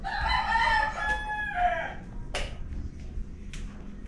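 A rooster crows once, fairly near and loud, its call rising and falling over about two seconds against background noise, followed by a few faint clicks.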